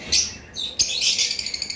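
Normal green Fischer's lovebirds in cages give high, shrill chirps and squeaky calls close by, starting as bursts and ending in a quick series of short tweets.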